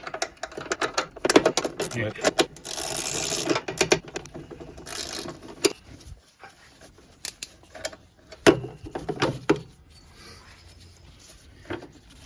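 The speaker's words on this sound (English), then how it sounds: "I'm going to use 2 9/16 wrenches to loosen up this brake assembly right here." Wrenches work loose the brake assembly on an Ariens Deluxe 24-inch snowblower, with scattered metallic clicks, ratcheting clanks and scrapes close by, busiest in the first half and fading to sparse taps.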